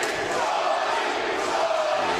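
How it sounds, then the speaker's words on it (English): A fight crowd cheers for the hometown favorite Shawnee, a steady, dense roar of many voices that keeps going the whole time with no break. "Everybody's cheering Shawnee right now"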